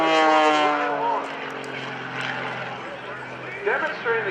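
Aerobatic propeller airplane performing at an airshow at the Rhode Island ANG open house, its engine droning loud and shifting in pitch as it tumbles, with an announcer talking over it throughout.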